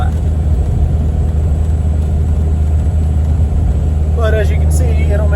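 Cummins diesel pickup truck engine pulling a large fifth-wheel trailer up a 6% grade at 55 mph, about 1500 RPM and 30 psi boost: a steady, loud low drone throughout, with a voice talking over it near the end.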